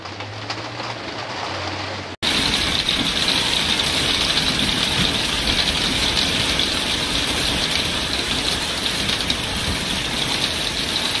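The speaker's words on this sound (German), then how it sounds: "Hier seht ihr keinen Regen, sondern Hagel" Hail falling on a parking lot during a severe storm, a dense, loud, continuous hiss and patter that starts abruptly after a quieter low hum and then holds steady.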